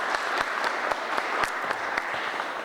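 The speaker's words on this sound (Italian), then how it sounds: "Un applauso." Steady audience applause at a political panel on working poverty, many hands clapping evenly at moderate distance with a few sharper individual claps standing out.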